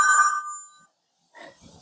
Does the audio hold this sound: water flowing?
no